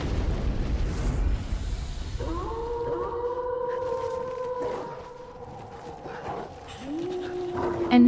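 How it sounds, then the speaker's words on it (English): Dogs in the Dark Souls 3 game let out long, drawn-out howls that rise and hold over rumbling low ambience, with a second howl starting near the end. "And no matter where I run, there are dogs everywhere."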